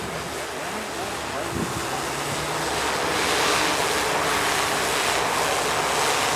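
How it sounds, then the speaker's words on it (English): Strong wind roars steadily and close, a broad rushing noise that grows slightly louder, with the faint hum of a flying V-tail quadcopter underneath. "It's very windy, you can probably hear it."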